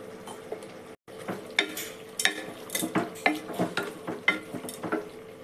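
Washed tripe going into hot oil in a pressure cooker, with salt and turmeric added, gives a steady close sizzle. Irregular scraping and stirring knocks, plus a few metallic clinks from utensils, sit on top of the frying with no talk.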